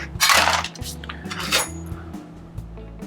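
Ice going into a big metal cocktail tin while mixing a Bloody Mary: a couple of bright clattering, clinking bursts close by, then a low rattle settling.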